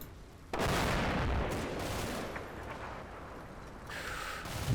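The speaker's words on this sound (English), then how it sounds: "It's a lot of artillery going down." Artillery in the WWII Normandy game Combat Mission: Battle for Normandy pounds down as a sustained wash of rumbling blasts and crackling impacts, loud and dense, easing slightly before another burst swells.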